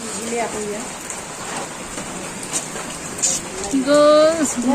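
Steady rain patters and hisses throughout, with a voice speaking intermittently over the downpour.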